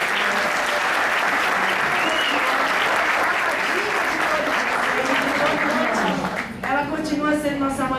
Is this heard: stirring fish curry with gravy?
no